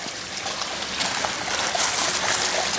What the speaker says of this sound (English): Go ahead and put him in the water.